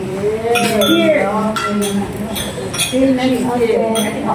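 Glasses clink together in a toast at a Holy Thursday Last Supper commemoration meal, several bright clinks scattered among overlapping voices talking nearby.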